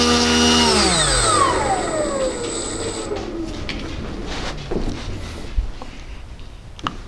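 A LotusRC T380 model engine spins a three-bladed prop; a high whining tone slides downward as it winds down, then a low rumble remains with a few faint clicks.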